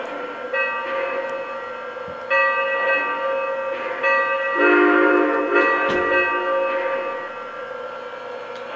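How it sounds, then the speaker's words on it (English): A Lionel Union Pacific 4-8-8-4 Big Boy #4024 model train bell rings repeatedly in a steady, clanging rhythm, close and fairly loud, with harmonic ringing tones sustained throughout and no talking. "And then the bell."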